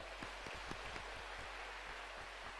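A church congregation at a workplace fasting revival service bursts into sustained applause, a dense, even wash of clapping that fills the hall from start to finish with no voices on top.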